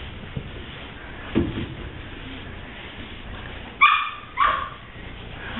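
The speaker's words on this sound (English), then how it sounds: "I hear the dog." A dog upstairs gives a few muffled, distant barks and yips, with a short burst near the start and two sharper barks toward the end, heard faintly through the house.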